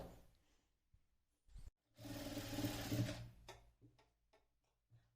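Sewing machine running a short burst of rapid stitching across a folded frill on a small cloth purse, preceded and followed by clicks and handling of the fabric, close and clear.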